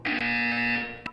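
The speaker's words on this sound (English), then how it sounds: "When you hear the buzzer, look down at the floor." A buzzer sounds in the Portal 2 video game: one sustained, loud electronic tone with a harmonic, alarm-like timbre that holds steady for most of a second, then cuts off, followed by a short click and a brief higher blip.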